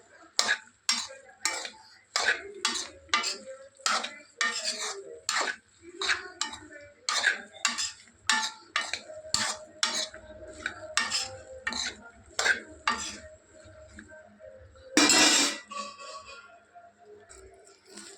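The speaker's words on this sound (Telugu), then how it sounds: "బెండకాయ ఇట్లా కొంచెం మగ్గాల వేగుతుంది" Okra frying in a pan while a spoon stirs it, producing rhythmic close scraping and clinking strokes roughly every half second over a quiet sizzle, ending in one louder clatter.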